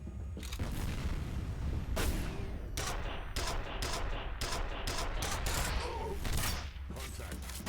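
A grenade blast and dense gunfire from F.E.A.R. Perseus Mandate roar in near-continuous loud bursts and booming cracks, with brief voices mixed in.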